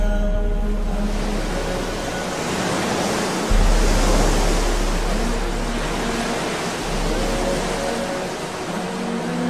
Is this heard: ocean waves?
yes